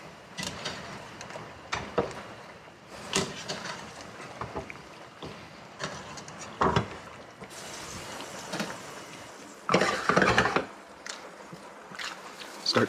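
Pasta tossed in a skillet with pecorino nearby, a series of scattered close sizzles, scrapes and clacks of the pan and food coming in irregular bursts.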